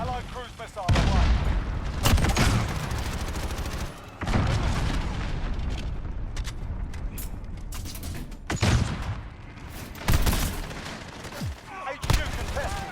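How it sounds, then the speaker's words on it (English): In a Call of Duty: Modern Warfare multiplayer match, a cruise missile strike booms amid dense, continuous gunfire and bursts of automatic fire, with repeated heavy impacts and mechanical clatter, loud and busy throughout with occasional voices. "Allied cruise missile away."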